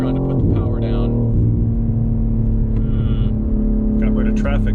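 Loud, steady engine drone from inside a BMW M3 Touring with AC Schnitzer ACS3 tuning as it pulls on a narrow German road, heard from the cabin with a voice talking over it.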